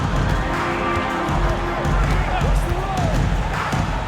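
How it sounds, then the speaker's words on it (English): A roaring arena crowd cheers after a slam dunk in the NBA 2K26 basketball game, with sustained noisy crowd roar and sneaker squeaks beneath continuous commentator talk. "it is flushed down with a nice jam. Oh, and the crowd goes crazy after seeing that finish."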